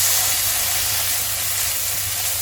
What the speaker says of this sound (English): I'm going to add 1 tablespoon of fresh curd or yogurt and we will mix it until nicely combined